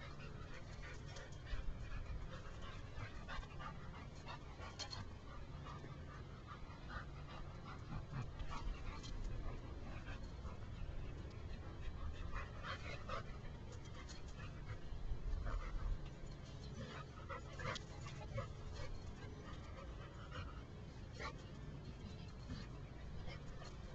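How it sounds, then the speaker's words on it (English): Dogs romping together with soft whimpers, yips and panting, steady scuffling throughout, quiet and close, with a person talking over them. "The dogs are playing in a very respectful way with each other"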